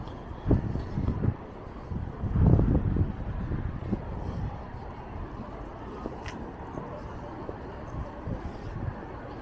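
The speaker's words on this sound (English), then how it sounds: "There's a few gusts of wind." Gusts of wind buffet an outdoor microphone outside Ilford Police Station as low, rumbling bursts that swell and fade, strongest in one heavy surge early on, over a steady background murmur.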